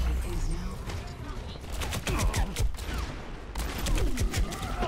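Rapid bursts of Overwatch gunfire crackle over a busy soundscape, repeated volleys in quick succession while a voice talks underneath.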